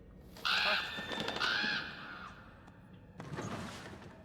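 A bird caws in the Until Dawn video game, two loud harsh calls close together followed after a pause by a fainter, rougher call over a quiet ambient background.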